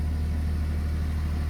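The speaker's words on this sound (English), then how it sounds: "The engine is running here." A BetaGen 10 generator engine runs steadily, a loud, close, constant mid-pitched mechanical drone with no change in speed.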